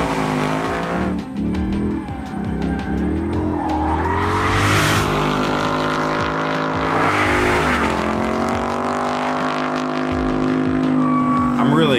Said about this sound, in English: Testing the oversteer characteristics of the vehicle.